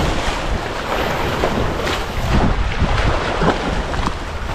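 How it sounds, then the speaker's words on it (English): Wind gusting over Sydney Harbour water at Rose Bay during a fishing outing, a steady, close, full roar buffeting the microphone with a slight surge midway and a watery wash beneath, no voices. "the wind's come up"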